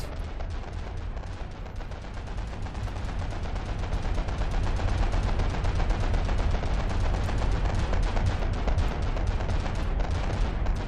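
Video game guns firing nonstop at different rates, a dense roar of overlapping automatic fire and heavy booms that swells a little louder partway through, with no talk over it.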